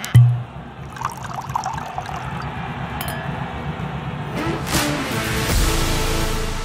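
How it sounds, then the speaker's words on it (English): A glass of wine is poured in a steady liquid trickle, with a light clink or two of glass, against a room background. The flow swells a little toward the end. "Liam's pouring a lovely glass of wine for me here"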